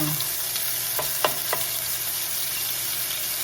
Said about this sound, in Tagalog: gagawin natin ay magigisa tayo ng bawang at sibuyas